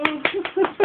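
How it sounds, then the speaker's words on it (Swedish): Five sharp hand claps ring out in quick succession, close and bright, each a crisp broadband slap, with a faint voice murmuring between them. "Klappa händerna, Erik"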